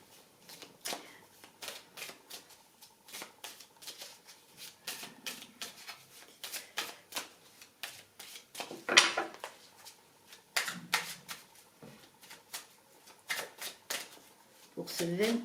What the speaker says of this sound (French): Et je vais tirer les cartes devant vous.